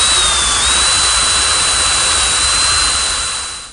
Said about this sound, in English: Now I want to drill some holes in each corner for these leveling screws.